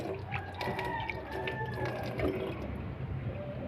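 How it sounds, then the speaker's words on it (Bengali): Chickens gather at feeding time outdoors after rain, with faint clucks and a distant crowing note over a steady rustling backdrop, no voices. "এই যে আমার মুরগি খাওয়ার জন্য চলে আসছে"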